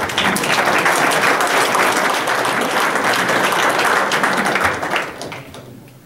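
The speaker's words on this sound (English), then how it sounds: "So give yourselves a round of applause." Workshop participants at a community engagement session on a high school plan break into loud, sustained applause from many hands, close and full, which thins and fades out over the final second.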